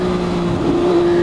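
An MV Agusta Brutale 675 motorcycle, a Euro 4 triple, holds a steady close idle with a brief slight rise in revs partway through, loud and continuous with no talk.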